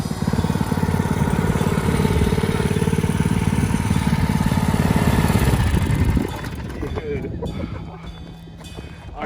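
A vehicle fitted with a Predator 212cc engine buzzes loud and close as it climbs a hill, the engine note steady for about six seconds before it cuts back to a rougher idle.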